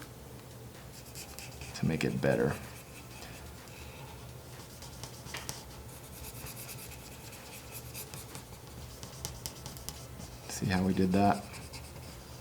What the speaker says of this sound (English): come over it with a white Prismacolor or white colored pencil